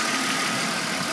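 A 2001 BMW E39 530i's 3-litre straight-six, remapped, idles steadily outdoors at a nature reserve, a smooth continuous hum at a constant even level with no talk.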